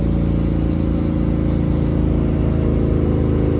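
A 1968 Chevrolet Camaro RS restomod cruises at 80 mph with its windows open, a loud, steady engine drone and rumbling wind roar close inside the cabin, no voices.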